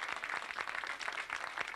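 Crowd applause at a cycling race awards ceremony, a short, moderately distant burst of clapping with no voice over it.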